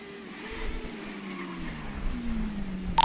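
A motor vehicle passes by on a road, its engine tone gliding slowly downward as it approaches and recedes, fairly close and heard alone without talk.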